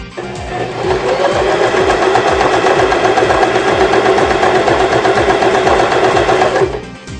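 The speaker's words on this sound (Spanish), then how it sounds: "realizamos la costura del ojal" A Janome sewing machine runs steadily while stitching a buttonhole, giving a loud, close, rapid mechanical whirr with a fast needle rhythm that continues evenly for several seconds, then stops abruptly.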